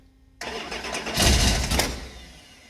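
A 1965 Ford Mustang road racer engine cranks and catches after a quiet start, swelling into a loud, rough, close-up idle with a brief surge before settling, no voices over it.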